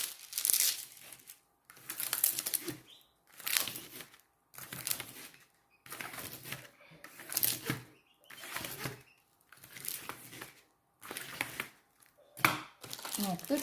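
Plastic zip-lock bags holding diamond painting canvases being handled, with repeated bursts of crisp crinkling roughly every second or so, close and fairly loud, separated by short quiet gaps.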